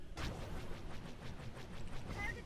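A starship's main weapon firing in Star Wars: The Old Republic space combat, a rapid string of repeated blasts with a low rumbling undertone, steady throughout and fairly faint.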